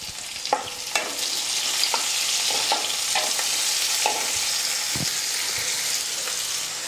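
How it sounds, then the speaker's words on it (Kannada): Mustard seeds, cumin, onion and curry leaves sizzle loudly in hot oil as a tempering for a curry. A steady frying hiss runs throughout, broken by sharp scraping clicks as the pan is stirred at irregular intervals. "ಇದೆಲ್ಲ ಸ್ವಲ್ಪ ಹುರ್ಕೋತೀನಿ ರೀ"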